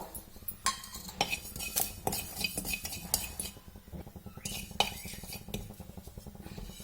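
Cumin seeds fry in a pan for an obbattu sambar while a spoon clinks and scrapes against the metal, quick irregular taps over a low background hiss, close and quiet.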